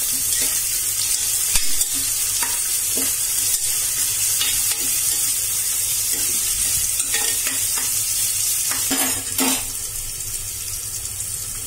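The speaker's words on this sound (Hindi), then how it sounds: "हम ऑनियंस को अच्छे से फ्राई कर लेंगे।" Onions fry in a pan with steady, loud sizzling throughout, broken by scattered scrapes and clinks from stirring, heard up close with no talking.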